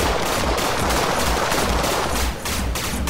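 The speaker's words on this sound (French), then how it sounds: "Il y a des coups de feu. Il y a des tirs là-bas." Sustained gunfire from the video game Executive Assault, a dense loud fusillade of rapid machine-gun bursts and overlapping shots filling the whole stretch without pause.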